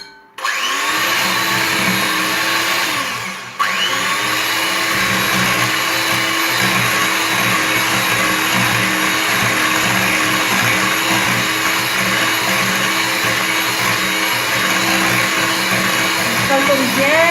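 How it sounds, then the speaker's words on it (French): Electric mixer beating eggs with sugar for a chocolate flan cake: a loud, steady whirring drone that starts abruptly, dips briefly, then runs continuously and close up without a break. "on prend les œufs avant, on mélange avec le sucre."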